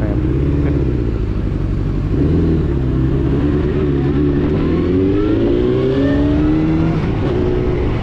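A Honda CBR900 Fireblade SC28 sport motorcycle engine revs loud and close, its deep droning note rising and climbing steadily in pitch without a break.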